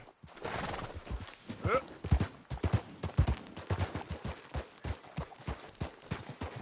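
Hooves clip-clop in a steady rhythm while a horse whinnies briefly in Red Dead Redemption 2, with faint voice sounds in the background.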